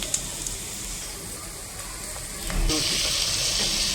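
Chopped tomatoes drop into golden-brown fried onions in a hot pan for a capsicum tomato masala curry. A low sizzle jumps into a loud, bright, steady hiss midway and stays strong to the end.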